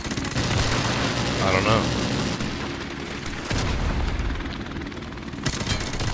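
AK rifle firing in Call of Duty: WW2, dense bursts of gunfire over a noisy game mix, with a player's voice talking briefly over it.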